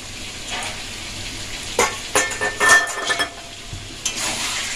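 Chicken being fried with ground spices in a pan for a Kashmiri chicken kanti dish; a soft steady sizzle runs throughout, broken by several sharp scraping stirs of a spoon against the pan midway.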